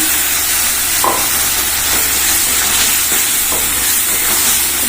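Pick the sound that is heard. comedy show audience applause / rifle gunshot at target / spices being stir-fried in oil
spices being stir-fried in oil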